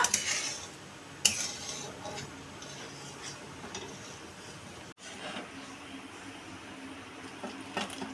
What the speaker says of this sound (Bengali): মা ক্রমাগত নাড়াতে রয়েছে মিশ্রণটা নাড়াতে নাড়াতে আরও ঘন হয়ে গেল পুরো মিশ্রণটা